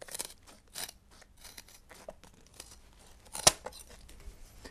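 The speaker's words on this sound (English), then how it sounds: "simply use your scissors" Scissors cutting round a disc of peel ply during a GRP boat hull repair with epoxy: quiet, close crisp snips and rustles in an irregular rhythm, one sharper snip standing out.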